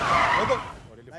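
A car skids to a stop on a busy traffic street, a brief harsh screeching burst of tire noise that quickly fades out.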